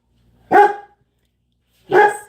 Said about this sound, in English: He's barking every time someone walks by outside